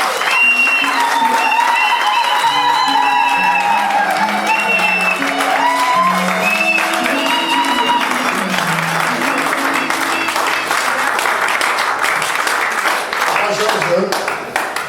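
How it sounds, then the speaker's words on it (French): Wedding guests at a nuptial blessing party applaud loudly and cheer in a dense, continuous crowd clapping that lasts the whole stretch, with voices and sung or ululating tones rising above it. "Acclamez, vous êtes jaloux du mariage, acclamez vraiment!"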